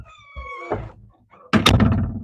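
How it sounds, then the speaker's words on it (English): A door shuts with a solid thunk near the end, preceded by a brief creaking and a softer bump, heard close in a quiet room. "Shut the door."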